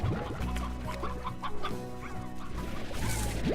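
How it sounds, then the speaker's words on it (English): Chickens in the video game Slime Rancher cluck repeatedly in quick, overlapping bursts amid busy in-game background sounds, with no speech. "we're getting a good little chicken population starting up here"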